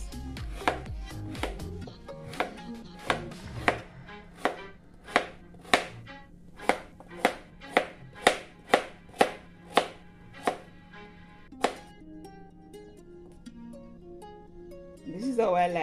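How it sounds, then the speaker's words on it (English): A knife chops carrot on a cutting board for a Jamaican chicken back and foot pumpkin soup, sharp, evenly spaced thuds carried through a long run, close and clear, with a low kitchen hum beneath. "Time to cut our carrot"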